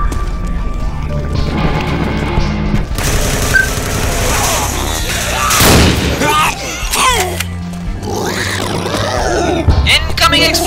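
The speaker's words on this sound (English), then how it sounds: "Incoming explosions!" Explosions and chaotic crashing booms from Left 4 Dead 2 on a hard zombie-horde map, loud and layered with gunfire and clatter, building in intensity across the stretch.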